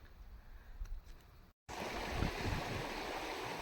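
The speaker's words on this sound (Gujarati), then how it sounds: "અત્યારે તાજું નીર જેવું પાણી છે ઝરણા સ્વરૂપે" Fresh water flowing as a small stream through village farmland, a steady broadband rush that grows louder and fuller after a brief dropout midway, with no talk.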